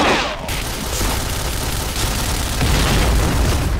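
A grenade blast in the Point Blank shooter game rolls out as a loud, sustained boom, with dense rumbling debris that fills the whole stretch, close and overpowering.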